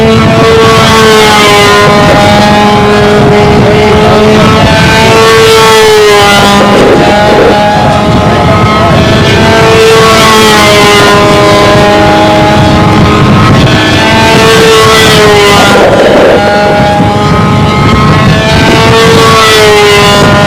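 Model pylon racing airplane engine at a windy national championship race, a loud high-pitched whine rising and falling in pitch as it passes repeatedly, with buffeting wind noise throughout.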